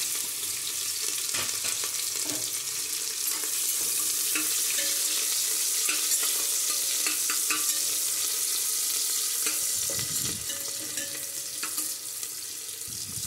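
Chopped onion and green chili fry in a pan for khichdi, giving a steady close sizzle with scattered stirring clicks and scrapes throughout, no voices.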